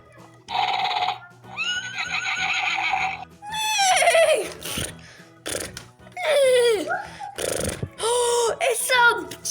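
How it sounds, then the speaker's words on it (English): Horse neighing in a toy rescue play scene, loud whinnies repeated several times with a voice and talk around them. "It's a giant horse."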